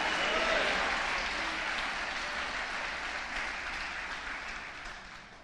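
A church congregation applauds together, a broad steady wash of clapping that starts full and slowly thins out over several seconds, with no voices on top.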